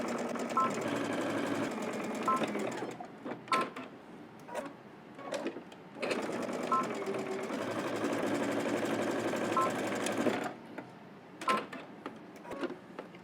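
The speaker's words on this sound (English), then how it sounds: "head to the machine, and we're just going to stitch across both sides using 5/8 of an inch seam allowance" Sewing machine stitching cardigan seams with a 5/8-inch allowance: a fairly quiet, close motor hum with rapid needle ticking, running in two long passes separated by short stops and clicks.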